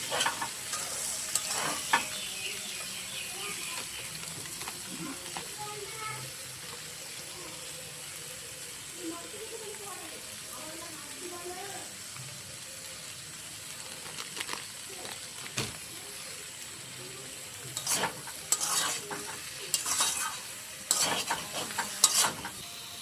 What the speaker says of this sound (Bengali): মশলার সঙ্গে সবজিটাকে ভালো করে এখন কষিয়ে নেব